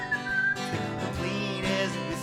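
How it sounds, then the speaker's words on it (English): Someone whistles a cheerful melody from a children's song, clear sustained notes gliding between pitches, close and alone. "I whistle as I clean."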